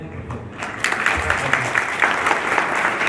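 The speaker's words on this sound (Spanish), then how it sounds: "¿Podemos dar un aplauso a él?" Audience applause at a business presentation honoring a chamber of commerce president, a steady wash of clapping that starts softly and swells after the first half second, with a faint voice murmuring beneath.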